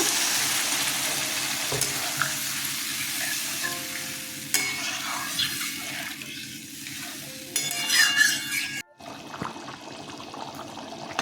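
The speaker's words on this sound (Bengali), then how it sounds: "কষানো হয়ে গেছে দেখুন তেল ছেড়ে দিয়েছে জল দিয়ে দিলাম" Prawn curry sizzles and bubbles steadily in a pan right after water is added, with occasional stirring scrapes and a brief pause near the end. No one speaks.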